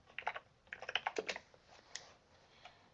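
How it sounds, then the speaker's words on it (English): Short bursts of typing on a computer keyboard, a quick cluster of close, crisp key clicks followed by a few scattered taps in a quiet room. "I'm going to type in Catherine."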